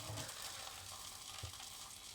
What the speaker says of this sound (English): all the ice that was on the edge of the sausage that I didn't bother defrosting off is sizzling.